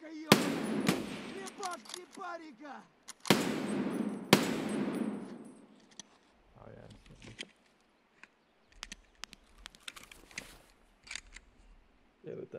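Gunfire in Escape from Tarkov: several loud, sharp shots and short bursts crack in the first few seconds, followed by sparser, quieter shots and mechanical clicks, with a voice speaking between them.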